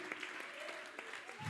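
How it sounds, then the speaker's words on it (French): A church congregation claps in praise to the Lord, a short burst of hand claps at modest volume with some rhythmic accents, briefly under a voice near the end. "on applaudit pour le Seigneur, on applaudit pour l'Éternel."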